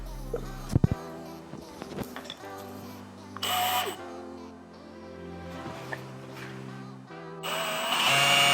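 A power drill bores 1/4 inch holes for mounting an APR aero kit rear skirt on a Honda Civic FL5 Type R, with short whirring bursts, clicks and handling clatter between runs, nearby.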